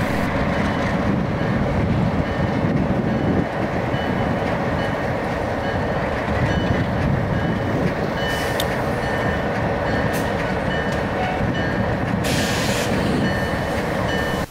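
A heavy Delaware Lackawanna freight train rumbles steadily close by as it glides to a stop, a continuous low roar of rolling cars with occasional high metallic squeals and hisses.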